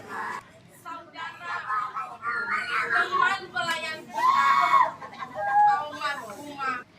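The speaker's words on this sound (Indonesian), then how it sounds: "Jeritan bocah berusia 7 tahun ini terasa menyayat, begitu memilukan di tengah ibadah pemakaman" A seven-year-old child screams and wails loudly at a funeral service beside a mother's coffin, with sustained high cries rising and breaking over several seconds and some other voices in the background.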